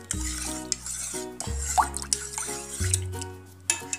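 Spicy amla juice with salt and sabja seeds stirred in a vessel: a few close, distinct knocks and scrapes of a spoon against the container, with light liquid swishing between them, no voices.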